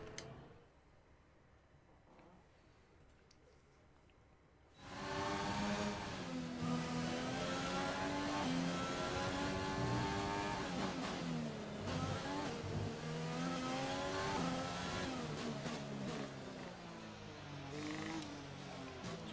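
A Formula One race car engine in the F1 2020 video game, out on a lap: near silence at first, then a sudden loud, sustained high-revving engine whine with rising and falling pitch through gear changes.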